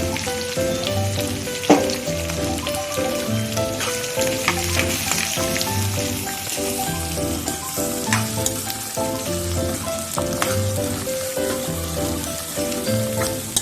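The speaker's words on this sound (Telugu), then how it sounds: "సన్నగా కట్ చేసి పెట్టుకున్న ఆనియన్స్ ఇలా మంచిగా ఫ్రై చేసుకోవాలి." Thinly sliced onions with green chillies fry in a pan for a meal maker masala curry, a steady close sizzle with periodic stirring scrapes and soft clatter, no voices.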